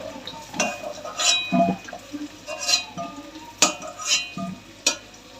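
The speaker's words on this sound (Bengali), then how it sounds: "এরকম লাল লাল করে ভেজে এবার তুলে নিচ্ছি।" Potato pieces fry in oil in a kadai for aloo dum, with a steady sizzle broken by repeated scraping and clanking stirs of a spatula against the pan, close and clear with no voices.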